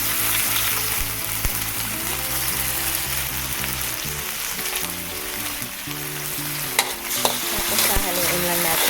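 Tomato sauce being stirred into sautéed onions in a hot pan, a continuous loud sizzle and frying hiss with intermittent scraping stir strokes, close up, no talking.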